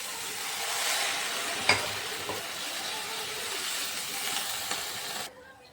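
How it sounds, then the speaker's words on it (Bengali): Water poured into a sizzling fish and potato-cauliflower curry raises a steady hiss with a sharp burst near the start, holding for several seconds before abruptly dying away. "এখন জল দিয়ে দিচ্ছি"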